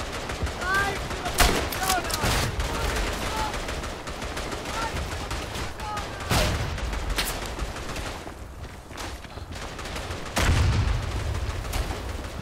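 Machine gun and rifle fire in the Verdun video game, at the Argonne, crackles in sharp bursts and single shots, some near and loud, others farther off, with heavier booms and a steady battlefield din between them.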